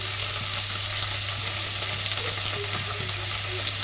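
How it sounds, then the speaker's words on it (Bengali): Tomato fries in a pan with salt and turmeric, giving an even, continuous sizzling hiss at close range with a faint low hum beneath and no speech. "টমেটোটা দিয়ে ভালো করে ভেজে দিচ্ছি।"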